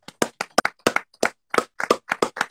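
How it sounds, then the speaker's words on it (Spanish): A single person at home claps for doctors during a live stream: about a dozen close, sharp, separate hand claps in a loose, uneven rhythm, with no talking. "si entre todos los que estamos acá en el live aplaudimos un ratico por ellos"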